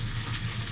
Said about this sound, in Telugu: ఇప్పుడు నీట్గా కడిగి పెట్టుకున్న బీరకాయ తొక్కలను అయితే నూనెలో వేసేసుకుందాం